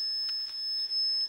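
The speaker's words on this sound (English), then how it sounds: "Shut that alarm off, please." A house alarm goes off in a home with no electricity, a steady high electronic tone holding throughout with brief stuttering pulses, loud and close, with no talking over it.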